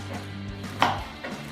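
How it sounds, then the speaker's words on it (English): A knife cutting around the root of an onion on a board, one short crisp slicing scrape amid a low hum, close and brief, with no speech. "I just like to slice around the root so that I don't waste any onion."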